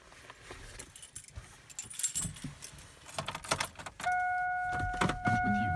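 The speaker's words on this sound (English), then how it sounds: "So take the keys and put it into the ignition." Car keys jangle and rattle as they go into the ignition of a Chevy S10 or Blazer, a loose metallic clatter close by, followed by a steady electronic warning chime that holds to the end.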